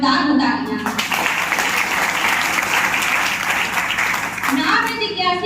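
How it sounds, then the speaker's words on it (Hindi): A school Independence Day crowd gives loud, sustained applause for its teachers. The dense clapping swells and holds, with children's voices chattering at the start and end. "आज इस हैप्पी इंडिपेंडेंस डे पर हमारे सर और मैम के लिए एक बार जरा जोरदार तालियां"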